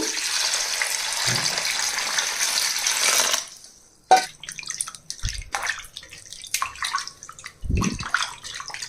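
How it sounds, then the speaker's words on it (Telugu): Skinned pieces of korramenu (murrel) fish are rinsed in water: a steady broadband wash of running, sloshing water for a few seconds, then scattered splashes and hand swishes in a bowl, close and moderately loud, with no talk. "ఇప్పుడు ఈ చేప ముక్కల్లో నీళ్ళు పోసి బాగా కడిగేయాలండి"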